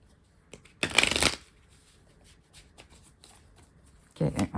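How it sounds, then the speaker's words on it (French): Tarot cards being handled and dealt, with a loud burst of shuffling and riffling near the start and more card handling at the end, quiet pauses between and no talk. "on va recouvrir tout de suite cette carte"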